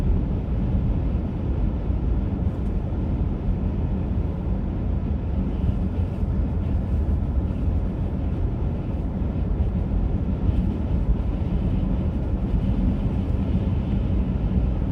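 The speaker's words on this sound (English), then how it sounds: "I don't know if you can hear the wind howling outside." Wind howling around a car on snowy back roads between Creemore and Orangeville, heard from inside as a constant low rumbling roar that holds steady throughout, with no talk.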